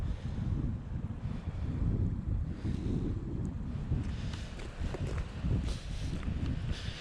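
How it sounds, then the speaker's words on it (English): Strong wind blusters steadily across the microphone beside the falls pool on a salmon river, a loud continuous rushing roar with no voices. "if you can hear me over the wind"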